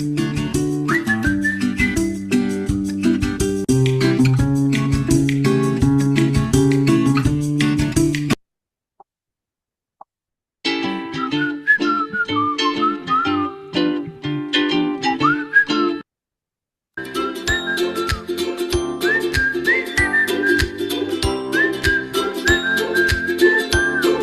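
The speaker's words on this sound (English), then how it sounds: "all of these really feature whistles" Whistled melodies carried over upbeat library music tracks for a dog food commercial, several short cues separated by brief silences, the whistling loud and upfront over steady backing instruments.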